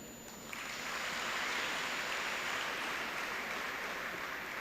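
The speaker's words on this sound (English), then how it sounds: "I ask you to give a very big round of applause for our teachers" Audience applause for the teachers at a July 2023 graduation ceremony, a broad steady wash of clapping that swells in after a quiet start and stays dense and even to the end, with no talking.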